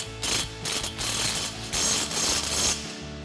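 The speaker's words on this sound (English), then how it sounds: "We'll go ahead and tighten down the first one using our 11mm socket on our impact." Impact wrench with an 11mm socket tightening a chrome exhaust tip clamp on a 2019-2024 Sierra 1500, delivering bursts of rapid rattling hammering, loud and close, with short pauses between runs and no talking.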